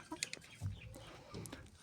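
Adler chickens cluck softly in a few short, quiet calls at a farmyard coop, with faint scuffling in between.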